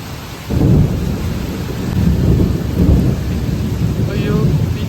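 Thunder rumbles low and heavy through a downpour of heavy rain, starting with a sudden swell and staying a loud, continuous roar without speech.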